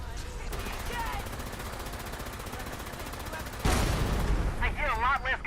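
Gunfire crackles continuously through the Fallout 76 game world, a dense spread of rapid shots that grows louder and heavier toward the end, with fast warbling whistles on top.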